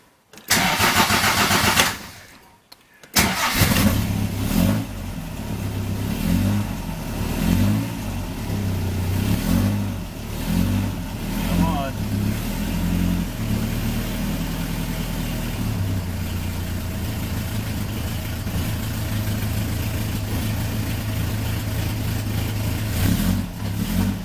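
A Triumph TR4A engine, fresh from an oil pump upgrade and repairs, cranks and fires on its first start with choke on, then settles into a loud, throbbing run with occasional revs, heard close up and alone.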